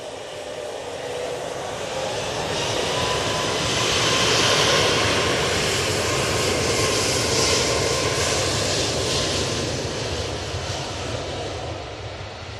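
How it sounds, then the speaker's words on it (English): A Ryanair Boeing 737 MAX 8 departing Manchester Airport for Marseille produces a powerful rushing jet roar that swells toward a peak around the middle, then holds steady and slowly eases, heard alone without talk. "Ryanair next out, they will be going to Marseille using the 737 MAX 8."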